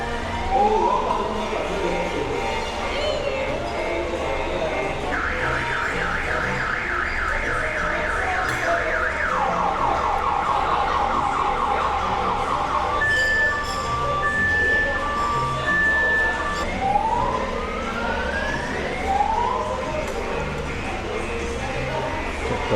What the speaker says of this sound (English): they gotta wait for the alarm to shut off